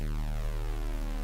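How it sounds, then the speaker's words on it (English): Steady synthesized square wave tone from a PC Engine (TurboGrafx) sound chip, a buzzy harmonic-rich pitch sweeping through warbling effects, heard alone and fairly quiet for about a second. "That's square wave."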